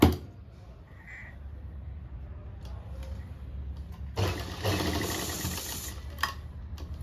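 A sewing machine stitches a firm seam on a shirt sleeve, starting after a quiet stretch with a brief burst of whirring and rapid needle clatter midway, fairly faint with low room hum and no speech.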